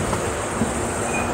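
Humsafar Express train at Ranaghat as it starts moving again, a steady low rail rumble with faint wheel squeal, continuous and close, with no voices.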